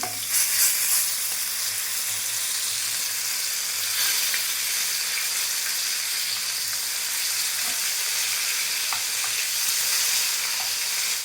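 Pieces of katla fish fry in hot oil, a steady, dense sizzle that holds evenly throughout with a few faint ticks and pops.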